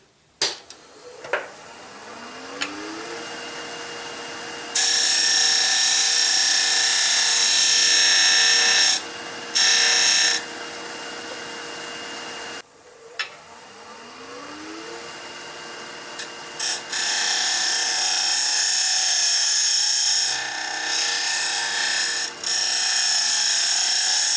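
A lathe spins up with a rising whine, then a tool scrapes and rasps against turning wood while hollowing a box, in long loud stretches broken by short pauses.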